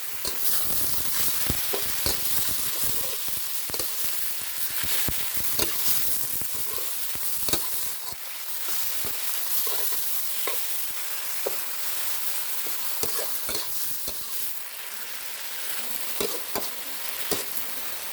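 Chicken stir-fried with ginger and wood ear mushrooms, a bright, hissing sizzle running throughout with frequent sharp spatula scrapes against the pan, close and steady with no voices.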